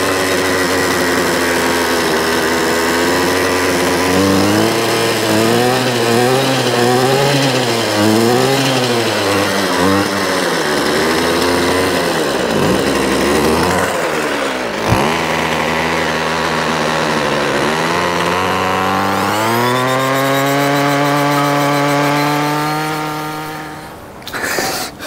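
A Ryobi string trimmer's small two-stroke engine runs close and loud at half choke, warming up with a wavering, surging whine that rises in pitch near the end before cutting off abruptly.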